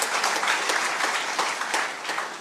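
Scattered clapping from a political rally crowd, fairly faint and somewhat distant, with a few sharper claps standing out.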